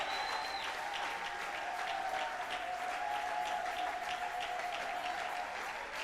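Sustained applause from a church congregation, even and continuous throughout, heard at a moderate distance with a faint tone lingering in the room.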